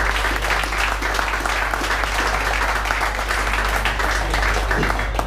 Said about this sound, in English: round of applause for Johnny Oduya for that